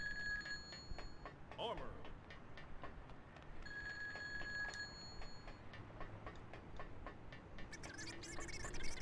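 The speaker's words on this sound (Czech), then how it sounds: "No jo, červený telefon" A red telephone rings in Grand Theft Auto 2 with a faint, repeated, bright bell-like trill among quiet game sounds. Soft ticking and background game noise sit around it.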